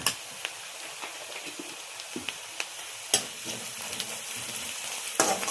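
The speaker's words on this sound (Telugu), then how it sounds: "మంచిగా కలుపుకోవాలి, కలగాలి పసుపు." Turmeric being stirred into a brinjal and potato curry frying in a pan, with a steady sizzle under irregular spoon scrapes and a few sharper knocks, close by and with no talking.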